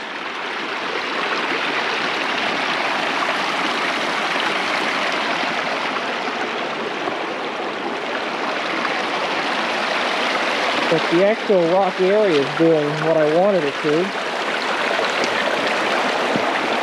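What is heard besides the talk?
water running under rocks in ditch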